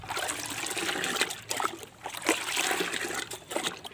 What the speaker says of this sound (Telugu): ఇప్పుడు దీన్ని ఐదు లీటర్ల నీళ్ళల్లోకి చాలా మంచిగా కలుపుకోవాలి